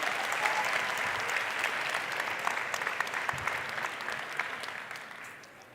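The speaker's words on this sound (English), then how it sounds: "Let's applaud them as well." Sustained applause from a large audience at a university graduation ceremony, steady and full, gradually tapering off toward the end.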